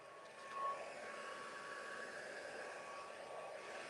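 A heat tool blows a steady, even hiss of hot air over a stamped card, holding at a constant level close by with no talking.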